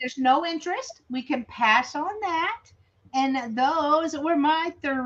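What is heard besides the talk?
No everyday noises stand out.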